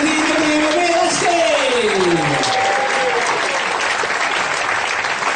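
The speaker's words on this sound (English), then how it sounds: "Nice round of applause, ladies and gents." A crowd delivers a sustained round of applause, a dense, even wash of clapping that runs throughout, with a voice speaking over it at the start.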